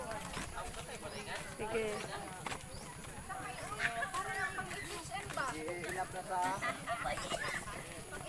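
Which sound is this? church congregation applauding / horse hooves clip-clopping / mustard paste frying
horse hooves clip-clopping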